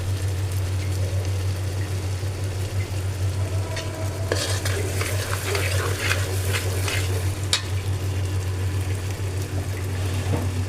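Spice paste is stir-fried in a pot for a vegetable-and-meat khichuri, heard as a loud steady sizzle over a low hum, with a busy middle stretch of stirring and scraping and no voices.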